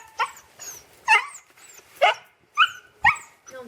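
A chained dog in a yard barks and whimpers, five loud, close yelping barks spaced roughly half a second to a second apart, each with a whiny tone.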